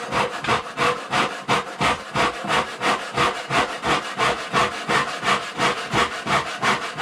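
A hand saw cuts through a piece of timber held under weight, producing a loud, close, rhythmic rasp of roughly two strokes per second that continues steadily without pause.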